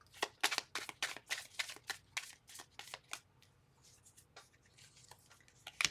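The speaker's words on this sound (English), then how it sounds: "One more shuffle." A deck of tarot cards is shuffled in a quiet room, giving a rapid run of crisp, papery riffles and slaps close by that slow into a few scattered flicks.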